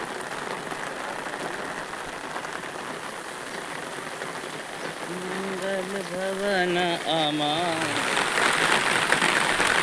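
Heavy village rain, about three inches in a day, pours steadily as a loud dense roar, with a voice joining partway through and the downpour growing stronger toward the end.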